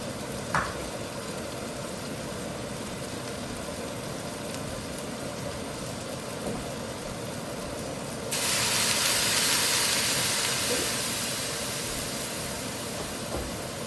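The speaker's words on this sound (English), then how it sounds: "I'm going to let this fry." Curry mixture frying in a pan with pumpkin, a steady quiet sizzle throughout that swells into a louder, brighter hiss about two-thirds of the way in before settling back down, with faint utensil taps.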